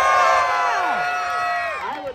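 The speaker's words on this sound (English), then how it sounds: "screaming, cheering" A crowd at a San Francisco street circus show screams and cheers loudly, many overlapping voices whooping in a sustained, near roar that tapers slightly toward the end.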